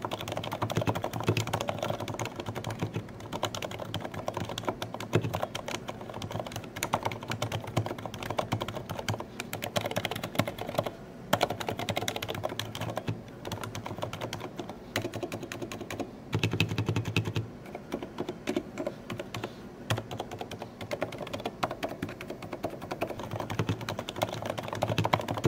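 Steady, continuous typing on compact mini-layout keyboards such as the Leopold FC660M with silent red and red switches, a Keychron K6 with brown switches and a Hansung capacitive board, with soft, muted keystrokes rattling along evenly and no talking.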